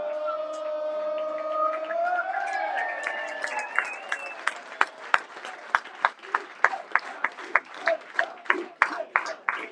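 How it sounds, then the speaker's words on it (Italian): Fans in the stands at a Sicilian Promozione amateur football match applaud a player, sustained crowd noise at first giving way to loud, rhythmic clapping with some cheering. "Gli applausi soprattutto per Marrone, man of the match, si va a prendere il 5 dei tifosi in tribuna."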